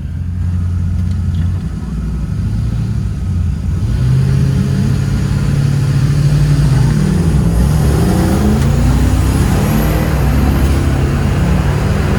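High-boost four-wheel-drive Land Cruiser launching at an eighth-mile off-street drag event, loud continuous engine roar building from an idle into hard acceleration with rising pitch sweeps, close and steady without talk.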